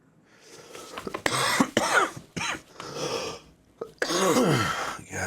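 A man coughs hard several times in close, harsh bursts, with a throaty strained quality and brief gaps between fits, ending in a long rough coughing spell.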